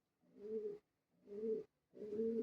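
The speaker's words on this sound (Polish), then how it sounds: "Tak człowiek przychodzi, puszcza te gołębie." Pigeons in a loft give three soft, separate coos, each about half a second long with short gaps between them, faint and alone.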